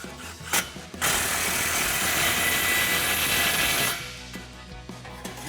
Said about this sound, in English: grab our impact and 15mm socket and tighten down our clamps just as needed